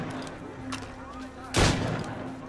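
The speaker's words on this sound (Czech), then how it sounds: "on přežije dva výstřely z pušky" A rifle shot in the video game Assassin's Creed Rogue gives a single loud, sharp blast past the midpoint over a steady game background hum, with a fainter crack a moment earlier.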